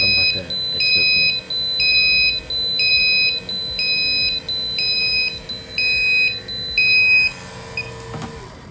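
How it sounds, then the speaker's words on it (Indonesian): Door alarm sensor alarm beeping steadily with high electronic tones in regular on-off pulses, about one each half second and loud and close, before cutting off near the end. "jika ada door alarm sensor terdeteksi, maka alarm akan nyala"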